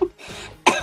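A person coughs twice, short harsh bursts close up, separated by a brief throat-clearing rasp.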